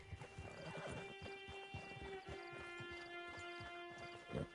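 A horse in Red Dead Online clops its hooves in a steady rhythm close by, faint and low in level, with a short whinny near the end over a faint hum.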